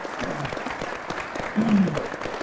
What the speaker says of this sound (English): Give Phil a round of applause